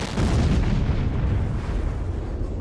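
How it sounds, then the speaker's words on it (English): An isobutane vapor cloud ignites in an industrial area with a deep, heavy blast that bursts in abruptly and rolls on as a sustained low rumble, loud and without voices. "The vapor cloud likely found an energized welding machine roughly 70 feet away from the initial release and ignited."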